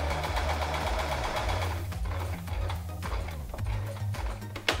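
Sewing machine stitching a zipper to the end of a seam and finishing with a backstitch, heard as a steady, quiet rapid ticking of the needle in short bursts with a brief pause in between.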